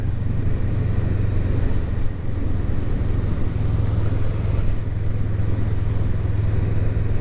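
A 2023 Honda Rebel 500 SE motorcycle in its break-in period runs with a steady, loud engine rumble that holds an even throb throughout, with only slight swells in throttle.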